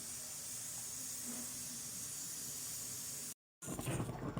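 Steady steamy hiss of a pot of sago boiling in water, continuous and close, then a brief dropout followed by a louder burst of noise.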